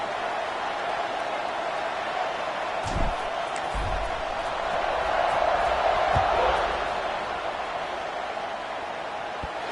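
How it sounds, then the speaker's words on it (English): A football stadium crowd buzzes after a score in an FIU at FAU game, a constant dense murmur of voices with a few sharp knocks and thuds, heard under a commentator's steady play-by-play. "this crowd is buzzing after that last score"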